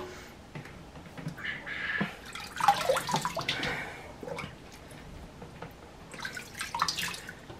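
Water splashing and trickling as the water of an ice bath for quail is changed, irregular pours and drips with small knocks, close by and moderately loud.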